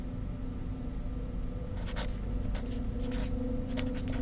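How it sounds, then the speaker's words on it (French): A pen scratches names onto a sheet of paper, the steady strokes breaking into short scribbling bursts over a constant low hum, close and fairly quiet. "écrivez vous-même, lentement s'il le faut, avec vos doigts engourdis, mais écrivez très lisiblement"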